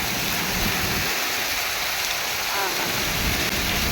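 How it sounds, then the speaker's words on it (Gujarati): Heavy, steady downpour roars continuously in Junagadh, Gujarat, a dense broadband hiss with low rumbling underneath throughout. "વરસાદ બહુ અંદરાધાર ચાલુ છે અને રૂકવાનું નામ જ નથી લેતો"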